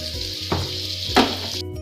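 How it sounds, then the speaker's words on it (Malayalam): Butter melting in a hot pan for egg bread toast gives a continuous bright hiss, with two short louder spits as it bubbles, close and steady throughout. "ഇനി ഇതിലേക്ക് കുറച്ച് ബട്ടർ ഇട്ട് കൊടുക്കാം."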